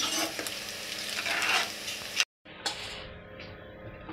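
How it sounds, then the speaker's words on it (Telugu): Boiled eggs fry in oil for homemade egg pickle, giving a steady close sizzle with stirring scrapes, a short silent break, then quieter sizzling. "ఇలా మంచి కలర్ వచ్చే వరకు ఫ్రై చేసుకోవాలి."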